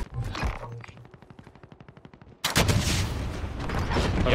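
Rapid bursts of gunfire in the video game Warzone, a steady rattling string of shots followed by a louder, denser barrage of firing and blasts.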